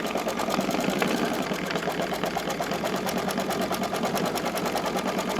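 Embroidery machine stitching a satin stitch applique edge on a tea towel, a loud, continuous rapid mechanical chatter that stays even from start to finish.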